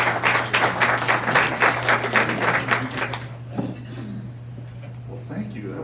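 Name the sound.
applause from the meeting audience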